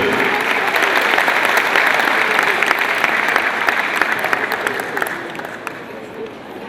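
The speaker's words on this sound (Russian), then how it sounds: "Ваши аплодисменты!" An audience at an awards ceremony applauds loudly as a performer is welcomed to the stage, a dense, sustained wash of clapping that slowly fades toward the end.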